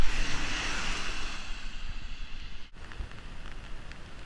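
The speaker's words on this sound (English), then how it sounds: "This is the most rain I think we've ridden in definitely." Steady heavy rain roars broadband and close, a dense wash that dips briefly near the end then continues, with no voices.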